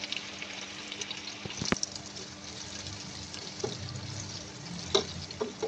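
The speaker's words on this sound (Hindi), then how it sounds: "3 से 5 मिनट हमने तमाम सब्जियों को अच्छी तरह से इसमें फ्राई कर लेना है, बिल्कुल लो फ्लेम पे।" Carrots and capsicum frying on a low flame for Chinese-style fried rice, a faint steady sizzle with scattered light clicks and scrapes of stirring.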